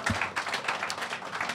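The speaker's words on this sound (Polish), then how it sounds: "wielkie brawa na sam koniec" A brief patter of applause closes a live podcast recording, quick claps from a small audience heard at moderate volume for a second or two.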